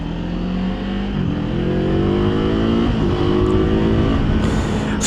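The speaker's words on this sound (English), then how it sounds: "when we shift gears with the paddle shifters, there is a pretty distinct pause in power" A 2024 Kawasaki Z7 Hybrid motorcycle rides steadily with a loud, close engine drone whose pitch climbs, drops briefly at a gear change, then rises again before settling.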